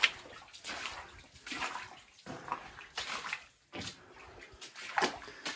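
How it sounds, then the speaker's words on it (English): Water flowing out of a flooded abandoned mine in Nevada, a close, uneven rushing and splashing that swells and fades in repeated surges, with no talking. "you can see here in front of me where my light is, that the water is indeed flowing out of the mine"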